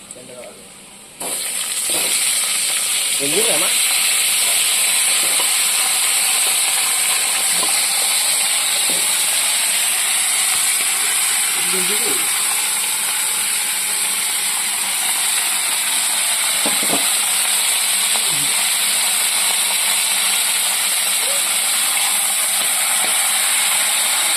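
Duck meat sizzling in a pan with onions fried until reddish-brown, a steady loud frying hiss that runs continuously after a brief quiet start, with occasional stirring scrapes and clinks.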